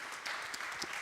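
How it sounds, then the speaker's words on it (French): Steady applause from a crowd at a restaurant industry congress, a dense wash of clapping that holds at an even level for about a second. "Vous pouvez l'applaudir"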